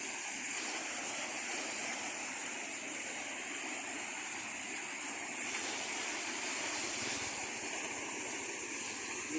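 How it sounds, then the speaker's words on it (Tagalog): Flash flood water rushes in a continuous, broadband roar that stays steady throughout at a moderate distance, with no voices heard. "Bigla na lang lumakas ang tubig."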